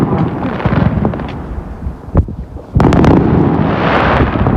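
Loud booming blasts and crackling bursts of Diwali firecrackers in Poland, several in close succession, with a rushing roar and wind buffeting the microphone.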